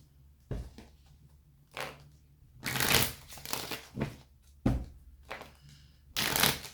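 Tarot cards being shuffled by hand, several separate riffling bursts with soft pauses between them, close and crisp.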